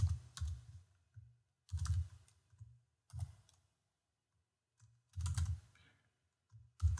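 Typing on a computer keyboard in short bursts of quick clicking keystrokes separated by pauses, close and fairly quiet, with no talk.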